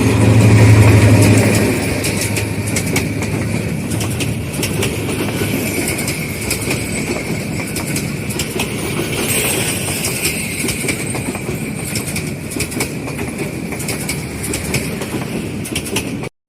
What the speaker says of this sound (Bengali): এই ব্রিজের উপরে দিয়ে ট্রেনটা গেল গা